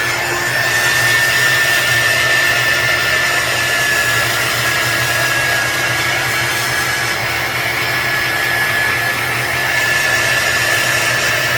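A hair dryer blows on a freshly painted 4th of July craft, a loud, close, unbroken whir with a steady high whine that holds for the whole stretch without talk.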